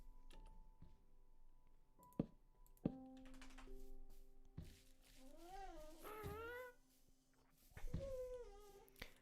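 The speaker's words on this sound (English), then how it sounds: "My dog is crying again." An indoor dog whines and cries in high, wavering, drawn-out bursts, mingled with scattered keyboard and mouse clicks during computer gaming.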